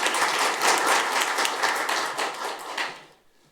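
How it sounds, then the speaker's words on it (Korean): A forum audience at a policy debate on medical device distribution gives a big round of applause to welcome the association president to the podium, dense clapping that holds steady and then tapers off into near silence. "김영민 협회장님을 큰 박수로 맞이해 주시기 바랍니다"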